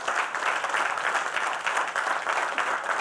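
Sustained audience applause at an online education event, a dense, even roar of many hands clapping that continues without a break.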